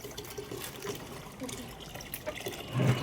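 Water runs steadily into a container at home while a school uniform is being washed, a soft continuous trickle and splash that is close and moderate, with brief voices speaking over it.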